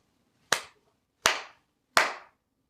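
Three sharp hand claps ring out alone, evenly spaced less than a second apart, each crisp and close with a short fading tail.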